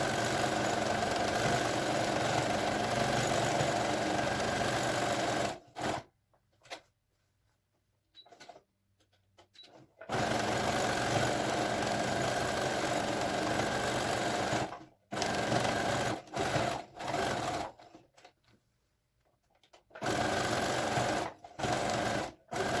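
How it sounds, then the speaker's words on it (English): A sewing machine stitches a pom pom seat cushion seam about a quarter inch in, running in several steady bursts separated by short pauses and stops, close and fairly loud. "you are going to sew all the way around with a little more than 1/4 inch seam allowance all the way around except one end"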